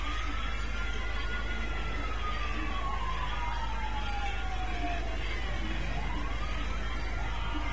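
A police siren in the GTA V video game wails in slow rising and falling sweeps, moderately distant, over a steady low rumble of traffic and background game noise.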